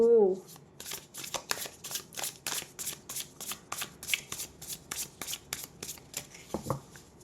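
Tarot cards being shuffled by hand at close range, a rapid series of crisp riffling bursts in a steady rhythm, with a short spoken sound at the start.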